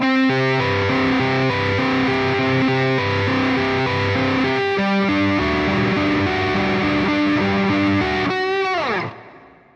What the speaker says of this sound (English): That, but with distortion pedal